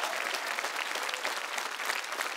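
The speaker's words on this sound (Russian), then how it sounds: "эти аплодисменты вам" A television studio audience at a singing competition show breaks into dense, continuous applause, many hands clapping together in a full, even wash.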